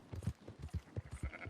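Sheep in Red Dead Redemption 2 give a quick string of faint, overlapping bleats amid soft hoof clatter, a small scattered flock heard at moderate distance.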